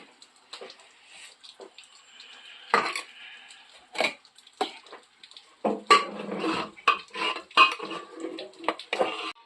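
A ladle scrapes and clinks against a pot while khichuri is served, a series of irregular metallic knocks and scoops, close by and fairly clear, with no talking.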